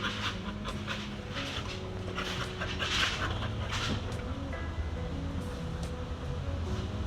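A tied-up dog pants rapidly and steadily at close range, with faint whimpers slipping in between the breaths and a low hum behind it.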